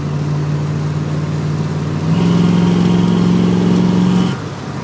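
Steady idle of a 1970 Ford Mustang coupe engine with a carburetor needing work, a low even hum close by that rises slightly in pitch midway, then drops back near the end.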